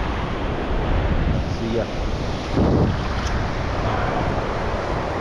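Ocean surf breaks on a beach during surf fishing for pompano and whiting, a loud continuous wash of waves with heavy wind buffeting the microphone, and a person briefly speaks partway through.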